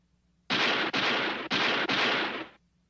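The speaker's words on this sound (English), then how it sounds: "when I heard the shots." A gunshot sound effect fires four loud, rapid blasts in a row, each a harsh burst with a brief gap before the next, then silence.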